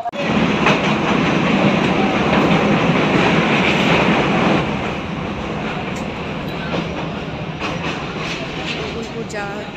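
A crowded train rumbles steadily along the rails with rhythmic clacking, loud and close, while voices chatter over the noise.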